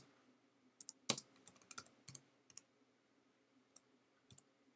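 Irregular clicks of typing on a computer keyboard, a quick burst of keystrokes followed by scattered single taps, close and fairly quiet with no talking.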